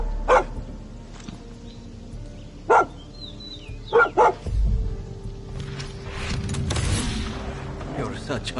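Several sharp, spaced dog barks in the Far Cry 6 video game ring out fairly close, over low game ambience and a rumbling thud, with a few quick barks bunched together midway.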